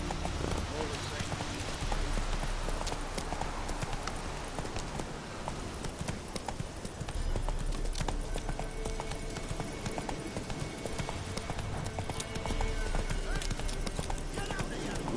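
Clip-clopping hooves of Roach, the horse in The Witcher 3: Wild Hunt, a steady rhythmic trot that continues throughout, mixed with game ambience and with characters talking over it.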